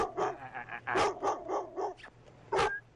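Dog barking at a deputy during a call, recorded on a deputy's body camera: a quick series of sharp, fairly close barks and yips, with a voice briefly mixed in.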